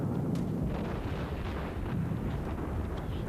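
Heavy naval gunfire from an Ishizuchi battleship in World of Warships: a continuous dense rumble of booming salvos and explosions, loud and close throughout with no clear gaps.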